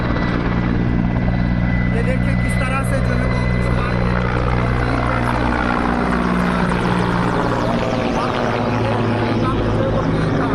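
An Indian Air Force helicopter flies overhead while airlifting polling staff in the Marwah area of Kishtwar. Its steady, loud rotor and engine drone runs throughout, with someone talking over it.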